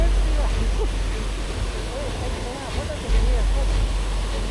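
Cascada de los Vientos waterfall on a mountain trek: a steady, broadband rush of falling water fills the background, constant and moderately loud, with faint voices murmuring beneath it.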